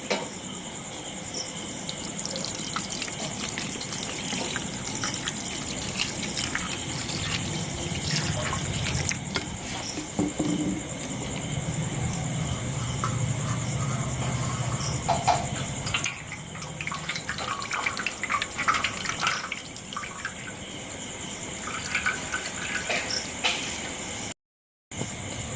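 Cold tap water runs steadily over fresh chhena curds being rinsed of vinegar, a continuous trickling splash with light dripping that holds at a fairly even level throughout, with no talking.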